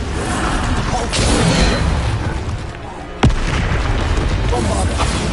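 Bombarda blasting spell in Hogwarts Legacy gameplay, a sharp, loud explosive crack around midway through busy, continuous game noise, with softer booms and magical effects elsewhere.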